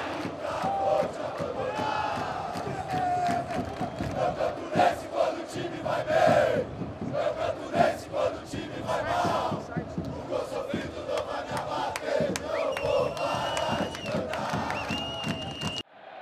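Fluminense football supporters chant and sing in a stadium, a dense, continuous roar of crowd voices with rhythmic surges and shouts throughout.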